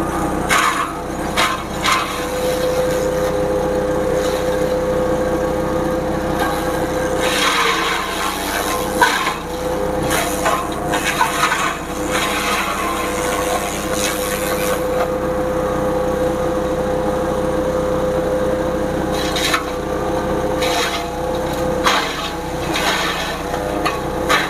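A chopper machine shredding sugarcane stalks into chopped cane for animal feed, giving a steady, close, loud grinding and rasping churn with a constant motor whine running throughout.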